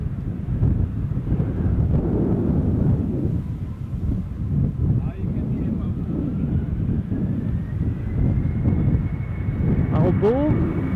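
An Embraer 190 jet at Amsterdam Schiphol Airport, a steady engine rumble with a rising whine, buffeted by wind noise at an outdoor spotting point, with a voice talking over it.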